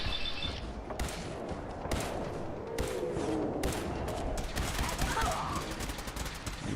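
Rapid bursts of gunfire ring out in the Fallout 4 game with the Sim Settlements 2 mod, repeated irregular volleys with sharp transients over a busy, rumbling battle background, fairly loud and continuous.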